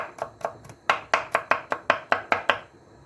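A knife chops garlic finely on a cutting board in a quick, even rhythm of about a dozen crisp, close taps, with slightly louder strikes in the middle and nothing else heard.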